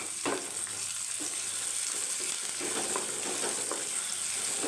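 Turmeric, salt, chili powder and coriander powder fry with a little water in a pan for samosa filling. A continuous sizzle runs under repeated scraping stirs, close and alone.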